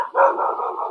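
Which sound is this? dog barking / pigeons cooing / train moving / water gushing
dog barking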